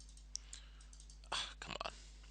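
A computer mouse clicks on an OK button in a virtual machine, heard as a single faint click followed by a quick cluster of soft clicks and taps in a quiet room.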